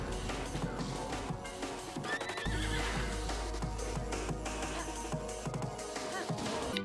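Horse from Zelda: Tears of the Kingdom whinnying during a boss fight, a clear neigh over busy game music, clatter and combat noise, fairly loud and up close.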